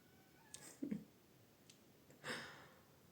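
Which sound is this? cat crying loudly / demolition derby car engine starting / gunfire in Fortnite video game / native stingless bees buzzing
cat crying loudly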